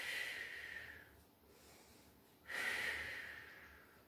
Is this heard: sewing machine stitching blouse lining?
no